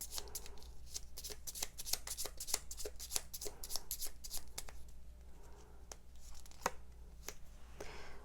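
Tarot cards are shuffled and drawn by hand, a rapid run of crisp riffling slaps and flicks that thins to a few scattered snaps, close and quiet over a low hum.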